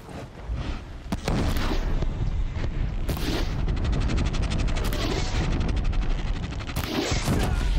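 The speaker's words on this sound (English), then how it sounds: "That's a grenade." Grenade blast in Horizon Zero Dawn, a loud sustained rumbling explosion that swells after a sharp crack and keeps roaring with crackling debris, alone without talk.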